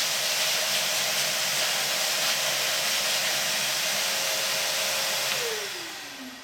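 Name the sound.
shop vac blowing out its air filter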